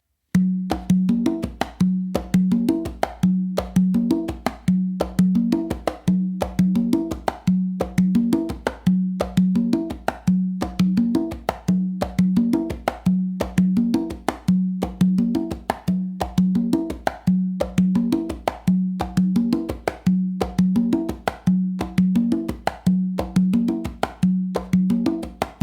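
Congas playing a bossa nova chorus variation, a steady repeating pattern of open tones and sharp slaps, close and dry, continuing evenly for about twenty-five seconds with no talking.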